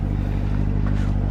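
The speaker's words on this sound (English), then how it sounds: "the exhaust sounds amazing" A Corvette's exhaust idles with a deep, steady, pulsing low rumble, close and fairly loud, running evenly throughout without talk.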